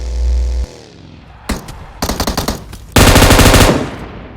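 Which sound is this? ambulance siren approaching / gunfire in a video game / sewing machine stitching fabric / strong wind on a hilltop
gunfire in a video game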